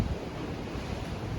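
A steady, roaring rush of cold wind buffets the microphone on the open deck of the Norwegian Bliss cruise ship in Alaska, a dense, unbroken blast with no voices.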